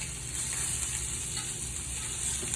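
Steak searing in a pan on medium-high heat, a steady close sizzle with faint crackles throughout, no voices.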